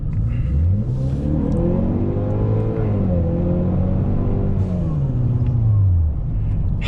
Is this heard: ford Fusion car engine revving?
yes